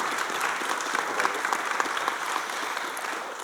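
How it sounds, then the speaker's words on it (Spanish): An audience at a film festival talk claps steadily, a dense, even patter of hands that carries on without pause, fairly distant and without voices. "Un aplauso."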